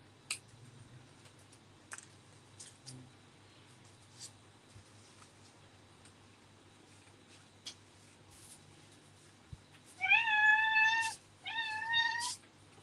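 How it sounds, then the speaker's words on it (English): A house cat called Madeline Meow, wanting to go outside, gives two loud, drawn-out meows close by near the end, after a quiet stretch of light clicking and tapping in the room. "That is Madeline Meow, now whinging about going outside."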